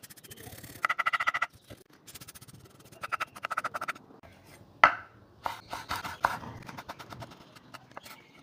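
Boiled eggs mashed with a folded net grocery bag, close up: bursts of rapid, rhythmic squishing and scraping in short groups, separated by brief pauses.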